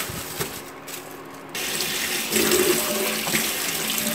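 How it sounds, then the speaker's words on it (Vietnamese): Pig ears being rinsed under a running kitchen tap for a crisp rolled pork-ear dish: a steady splash of water into a sink that grows fuller and louder partway through, close and alone. "rửa nhiều lần với nước không thường là cho sạch"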